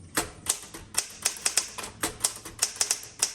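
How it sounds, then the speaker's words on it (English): A 1967 Smith Corona Classic 12 manual typewriter, repainted red, types in a steady run of sharp, close keystrokes, roughly three to four per second, with no voices. "I love the Smith Corona Classic 12. One of my favorite manual typewriters."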